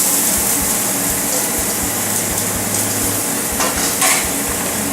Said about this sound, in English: I'm going to have Amber put a little bit of oil on the flat top.